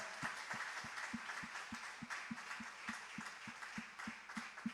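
A church congregation claps in unison during a sermon, steady rhythmic applause with evenly spaced beats, sounding from a large room.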